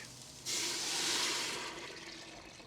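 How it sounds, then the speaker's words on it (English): Vegetable stock poured into a stock pot for pickle soup, a soft liquid gush that starts abruptly, holds for about a second, then tapers to a quieter trickle. "Now we'll add our vegetable stock"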